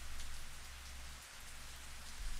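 Steady rain falling in the Higurashi: Miotsukushi Ura game, a continuous dense hiss of drops on surfaces with a low rumbling undertone, fairly soft and unbroken, with no voices.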